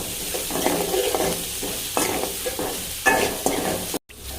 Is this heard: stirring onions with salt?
yes